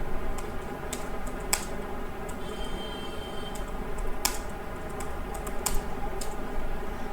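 Rapid, irregular clicking of a computer keyboard as HTML code is typed, close and clear, with a few sharper key strikes standing out and no talking.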